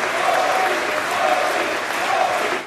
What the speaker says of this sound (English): Modi delivered a speech to Congress and drew a crowd of onlookers who chanted his name during applause lines.